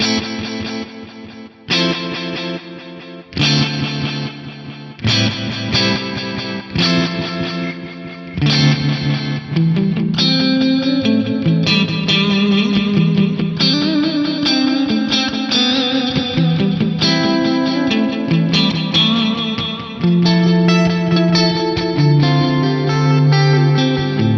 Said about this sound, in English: This one's using the multi-tap delay with some modulation and a spring reverb.